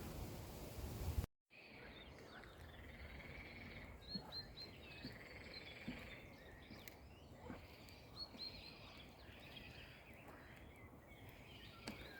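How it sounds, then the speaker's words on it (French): Frogs and toads croak steadily in a wetland of the Petite Camargue, a dense chorus of faint rasping calls at middle distance, with scattered bird chirps over an outdoor hush after a brief cut at the start. "C'est les grenouilles et les crapauds."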